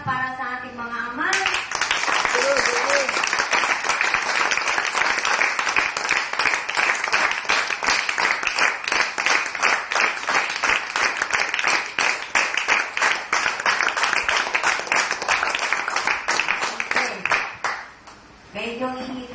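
Congregation at a Father's Day church service clapping for the fathers, dense sustained applause from a crowd lasting many seconds, loud and close, fading out at the end with a voice briefly heard before it begins.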